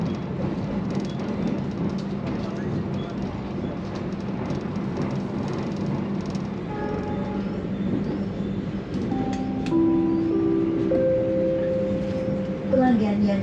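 Argo Bromo Anggrek sleeper train running on rails beside the coastline near Pelabuhan, a steady low rumble and rolling noise heard from inside the carriage, with faint tonal squeals rising toward the end.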